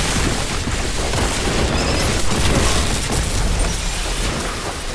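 A plasma gun in the game Warhammer 40K Boltgun fires like a fully automatic rocket launcher: a dense, loud, continuous barrage of booming explosive bursts with no pauses.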